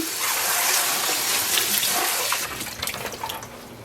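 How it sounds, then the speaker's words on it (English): Tap water runs steadily into a sink to wash freshly dyed yarn, a loud continuous gush that turns choppier and splashier toward the end as the yarn is handled, with no talking. "Let's wash some of this yarn."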